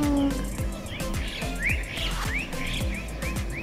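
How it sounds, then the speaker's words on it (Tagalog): Birds chirp and whistle with rising sweeping calls in a park, over a busy, loud outdoor background with rhythmic low thumps. "may mga ibon pang nagkakantahan diyan po sa park"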